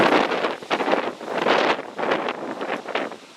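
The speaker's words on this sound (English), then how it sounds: "Yeah, see, there goes the gust there." Strong outdoor wind gusts roar and buffet the microphone in loud, surging waves with no pause, whipping around a tent setup area.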